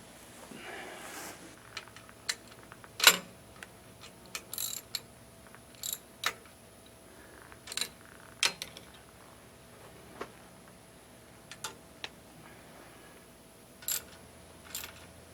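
Bolts being tightened on a modified subsoiler used as a cable, wire and pipe burier, giving sparse, sharp metallic clicks and taps at irregular intervals, close by with no talking.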